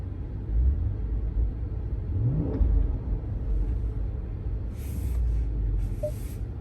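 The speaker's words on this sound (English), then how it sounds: "So if I just rev the engine here," A 2021 Jeep Grand Cherokee SRT engine is revved while parked: a steady deep idle rumble swells into one rising rev and falls back, with some hissy noise later and no talking.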